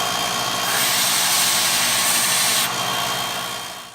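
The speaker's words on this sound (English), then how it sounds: "I'm going to take it to the belt sander, clean it all up" Belt sander smoothing the cut edges of an aluminum keychain, a steady loud whirring grind with a brighter abrasive hiss while the metal is pressed to the belt, then easing off near the end; no talking.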